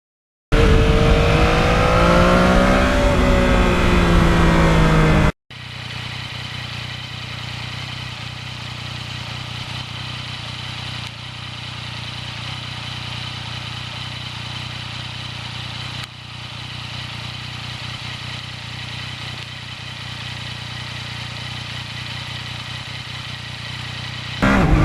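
A 2020 Yamaha MT-09 motorcycle runs steadily while being ridden, a continuous engine drone with wind rush; a louder, rougher burst opens before settling into an even cruising tone.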